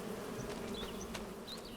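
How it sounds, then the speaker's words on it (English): Bees buzz near a field on a farm. Steady, faint insect droning runs the whole time, with occasional closer buzzes passing by, and no one speaks. "Oh, I can hear the bees."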